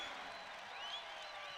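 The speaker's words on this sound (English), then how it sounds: "That'll bring the crowd to their feet, and it does." Basketball arena crowd at a 2019 UNI vs ISU game roars after a fast-break lob, a dense, steady wall of cheering with some higher whistles and shouts rising near the end.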